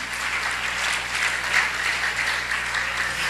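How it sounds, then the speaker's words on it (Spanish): Steady, even applause from a church congregation filling the room for several seconds, with no voices over it. "Dale una ofrenda fuerte de palmas."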